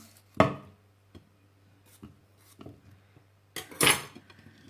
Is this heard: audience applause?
no